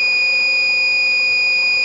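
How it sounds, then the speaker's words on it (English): FPGA countdown timer alarm built with VHDL and an LCD display, going off after the countdown reaches zero: a steady, shrill high electronic tone that sounds continuously and loudly, with no talking. "the alarm will be in the on condition."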